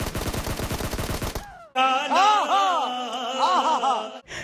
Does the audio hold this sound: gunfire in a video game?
yes